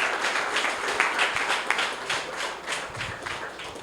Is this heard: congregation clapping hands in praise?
yes